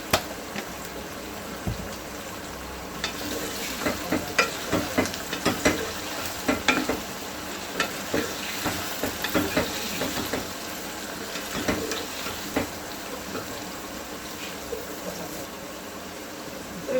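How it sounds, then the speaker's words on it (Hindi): Okra frying in a pan with turmeric and salt, a steady sizzle broken by repeated clinks and scrapes of stirring, moderately loud and close with no talking. "भिंडियाँ हमारी फ्राई हो गई हैं"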